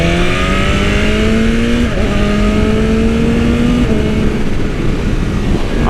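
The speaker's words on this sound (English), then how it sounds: "Auto blipping downshift. I love this thing." A 2020 BMW S1000RR race bike at highway speed makes repeated auto-blipping downshifts, each gear change a sharp engine rev break in a loud, continuous motor roar heard up close.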